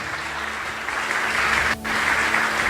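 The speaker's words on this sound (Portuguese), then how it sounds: "Pode aplaudir Jesus bem forte." A church congregation applauds during a service, a dense, steady wash of clapping that drops out for a brief moment near the end before resuming.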